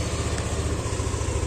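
A Yamaha NMAX scooter engine idles nearby after starting, giving a steady, even low putter with no voices.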